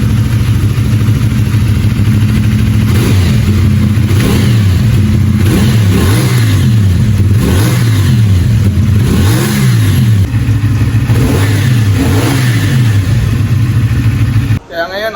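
A 450 SR motorcycle fitted with an Austin Racing slip-on exhaust revs repeatedly up and down close to the microphone, loud and continuous over a rumbling idle, with rising and falling throttle blips for about fifteen seconds.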